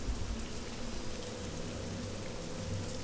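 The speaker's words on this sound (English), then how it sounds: "It always fucking rains in Balmora." Steady, soft rain hiss falling over Balmora in the Morrowind video game, an even wash of patter with no gaps and no voices.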